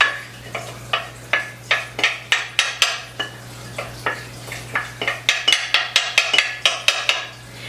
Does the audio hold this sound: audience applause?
no